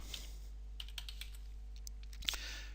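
Someone types an email on a computer keyboard, a string of faint, close key clicks at uneven intervals over a quiet room hum, with one slightly sharper tap near the end.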